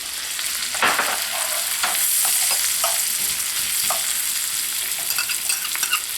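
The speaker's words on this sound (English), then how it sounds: "And in this butter, I'm going to put the carrots, the onions" Carrots and onions sauté in melted butter with a loud close sizzle, broken by several sharp scraping stirs of a utensil across the pan, with no voices.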